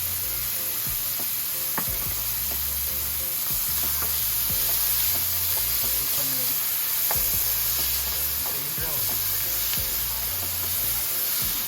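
Vegetable fried rice with Schezwan sauce stir-fried in a hot pan, giving a steady, close sizzle and hiss with scraping and stirring strokes of a spoon running throughout.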